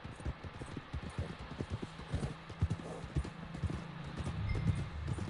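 Horse hooves clip-clopping at a walk in Red Dead Redemption 2, a steady, fairly close rhythm of soft thuds over outdoor ambience with a faint low hum.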